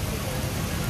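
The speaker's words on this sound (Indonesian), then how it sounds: "Gile, hujan banget." Heavy rain drums steadily on a car, a dense unbroken hiss with low rumble, close and loud throughout with no pauses.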